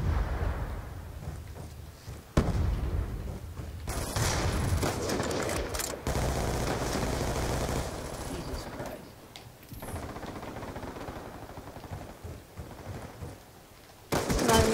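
Black Ops 3 free-for-all gameplay: bursts of rapid gunfire and heavier blasts crackle loudly, broken by a few short quieter gaps, with no talking over them.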